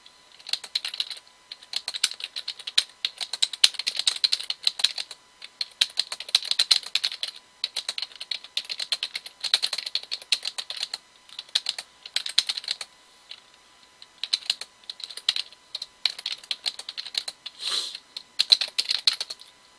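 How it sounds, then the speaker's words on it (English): A computer keyboard clatters under steady, close typing, with quick bursts of key clicks separated by short pauses and no voice over it. "Let me type it out real quick."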